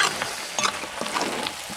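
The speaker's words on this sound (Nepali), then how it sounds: "मजाले पड्किन थालिसक्यो।" Black pork curry with spices crackling and sizzling in a pan, a steady close frying hiss broken by sharp pops and stirring scrapes.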